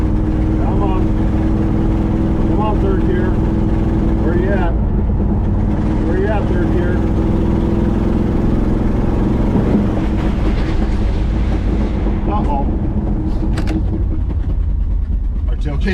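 A 1986 Chevrolet C-10 square-body pickup labors loudly through the gears, its engine droning steadily and sounding sluggish while the driver hunts for third gear, with talking over the engine noise.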